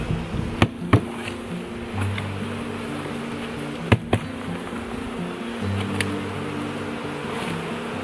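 A steady, low buzz of honey bees drifts around an open nuc box during beehive work, broken by a few sharp knocks and thumps from the box and frames.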